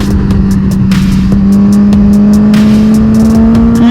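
Suzuki GSX-R1000R motorcycle engine held at a steady, loud, close rev with a rising drone and a few sharp crackling bursts, without talk.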